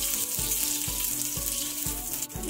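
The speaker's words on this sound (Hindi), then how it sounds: "मिर्च को अच्छे से भून लीजिए।" Dry red chillies fry with cumin and ginger in a steady, close sizzle, with low soft knocks about every half second from stirring.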